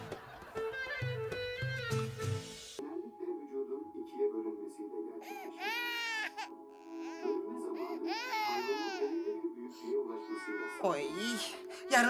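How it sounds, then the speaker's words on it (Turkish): An infant cries and wails in repeated rising bursts, muffled as if heard from behind a closed door. A steady background tone sits under the crying, and a voice speaks briefly at the start. "Ağlama sesini duymazsan evham yapmazsın."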